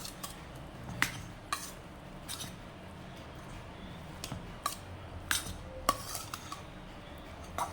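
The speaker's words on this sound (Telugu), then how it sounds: "కలిసేటట్టు మంచిగా రైస్ కలుపుకోవాలి." A spoon mixing rice in a metal pot, with scattered light scraping and clinking taps at an irregular pace, fairly quiet and close.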